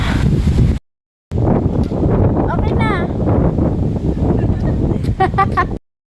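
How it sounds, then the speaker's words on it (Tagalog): Strong gusty wind buffets the microphone outdoors on a hilltop at Picnic Grove in Tagaytay City, a loud rushing roar with a brief break, while people talk over it. "Oh, sarap ng hangin."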